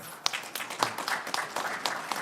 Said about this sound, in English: No, you were clapping.